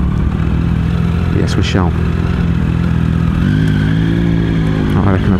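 Wind-buffeted motorcycle engine revving and accelerating on a road in a hail storm, close and loud, with pitch sweeps as gears change; a rider talks briefly over it.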